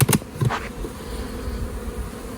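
Honeybees in a wintering mini-plus hive buzz and hum in a low, continuous drone, with a few sharper knocks at the start, close by and fairly loud.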